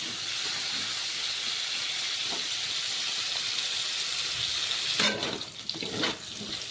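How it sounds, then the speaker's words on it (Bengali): Cut spiny gourd pieces sizzle in hot oil with salt and turmeric, a steady hissing fry that continues for several seconds before a few clatters and a shift in the sizzle near the end. "এইদিকে কাঁকরোলটা ভাজা হচ্ছে।"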